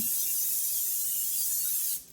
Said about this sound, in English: Then I'm going to spray my 9x13.